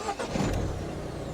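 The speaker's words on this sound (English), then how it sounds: "The car starts without no issues or questions." A Peugeot 508 SW diesel with automatic transmission is started with its key: a short cranking burst catches into a steady, close diesel idle with no talking.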